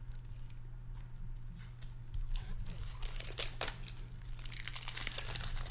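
Crinkling and tearing of a Magic: The Gathering Ixalan card pack wrapper as it is opened, close and moderately loud over a low steady hum, with sharper rips toward the end.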